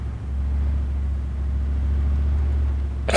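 A vehicle drives in the video game Arma 3, giving a loud, steady low engine rumble for a few seconds that ends in a sudden burst of noise.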